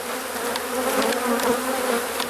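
Upset honey bees boil out of an opened hive being readied for winter, a thick, loud buzzing drone up close that swells and dips slightly, with no speech.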